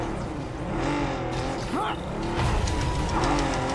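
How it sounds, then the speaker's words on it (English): A racing car engine in a video game roars continuously, its pitch rising and falling as it speeds along, with a brief tire squeal. "Now I just have to stop that car."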